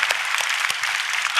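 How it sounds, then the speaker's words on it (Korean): A church congregation applauding during a Sunday worship service, dense, loud clapping sustained throughout with no speech over it. "우리 하나님께 영광의 박수를 올려드립니다."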